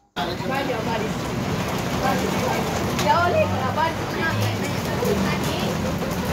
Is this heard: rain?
yes